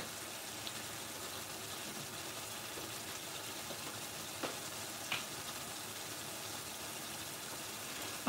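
Onion paste for a Madras curry frying and reducing in a pan gives a steady, soft broadband sizzle with a few faint pops, continuous and fairly quiet throughout.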